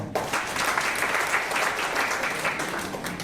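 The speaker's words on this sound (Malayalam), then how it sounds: "മനസ്സിലായിട്ട് കൈയടിക്കാം" Audience clapping together at a business talk, a dense, steady burst of applause lasting about three seconds, fairly close and with no speech over it.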